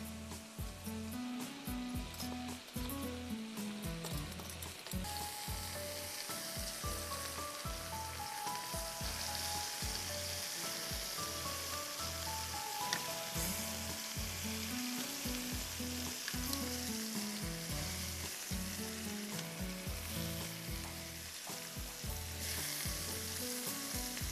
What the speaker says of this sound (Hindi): मैं फ्राई पैन उठा रही हूँ, उसमें 2 टेबल स्पून तेल डाल के इसको सेक रही हूँ।